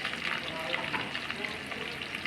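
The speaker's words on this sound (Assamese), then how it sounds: "তেলখিনি গৰম হোৱাত মই ইয়াতে দিম পিঁয়াজ আৰু 2-2ফালমান জলকীয়া দি দিছোঁ।" Onions and split green chillies fry in hot oil in a wok, making a soft, even sizzle with light crackle, heard briefly and fairly quietly.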